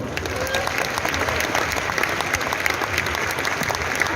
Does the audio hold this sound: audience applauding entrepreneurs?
yes